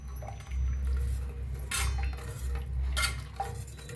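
A spoon stirs egg masala curry in a pan after hot water has been poured in, giving a few soft scraping clinks against the metal over a steady low kitchen hum, close by with no talking.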